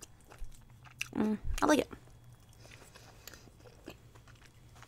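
Someone bites into a cucumber sushi roll made without rice, with two loud close crunchy bites in quick succession and then quieter chewing, while a person talks softly.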